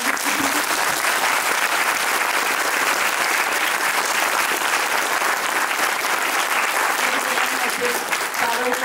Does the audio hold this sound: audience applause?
yes